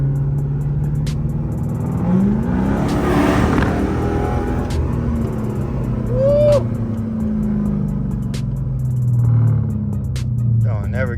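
A car engine revs up through a tunnel, its roar swelling and echoing over steady road noise, with voices talking over it.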